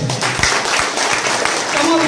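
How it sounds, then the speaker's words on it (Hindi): An audience applauds steadily at a live gathering, with continuous clapping throughout and voices mixed in over it. "उनके लिए एक जबरदस्त ताली।"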